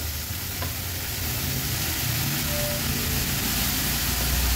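Finely chopped amaranth greens go into a pan of cooking tomatoes, giving a continuous broadband sizzle that holds steady and swells slightly toward the end, with no talking.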